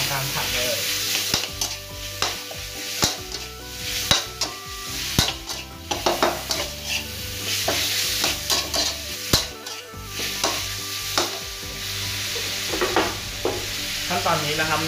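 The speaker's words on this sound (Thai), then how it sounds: "แล้วก็ทำการผัดเลย" Pork belly stir-fried with salt in a hot pan, a steady loud sizzle broken by repeated scraping and clanking of a utensil stirring against the metal, with no voices.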